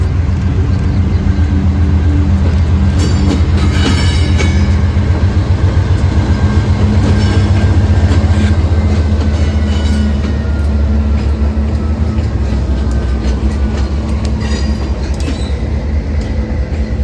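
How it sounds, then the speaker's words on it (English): CPKC freight train I-41, led by two KCS locomotives, rolls past loud and close with a deep engine rumble, rhythmic clatter of wagon wheels over the rails and some wheel squeal, continuous throughout with no talking. "And our final train at Manheman Station would be CPKC I-41, led by two KCS bellies in the lead."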